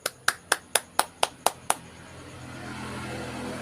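A church congregation claps in a quick, even burst of about eight sharp claps. The clapping stops abruptly, leaving a low, rising room murmur.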